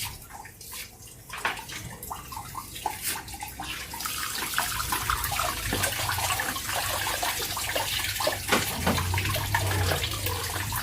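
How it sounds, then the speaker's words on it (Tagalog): Coolant gushes from the opened radiator drain of a Mitsubishi Montero Sport, a steady splashing pour that grows fuller over several seconds, heard close with faint clicks and no talk. "Bubuksan ko yung radiator ka para lumakas yung drain niya"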